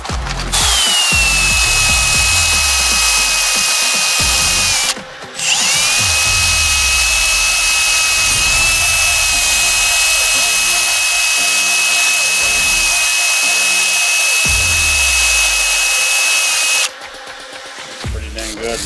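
A power drill runs steadily for long stretches while cleaning a Kawasaki Mule magneto part, a loud sustained whine with rasping grinding texture underneath, briefly stopping and restarting near the midpoint.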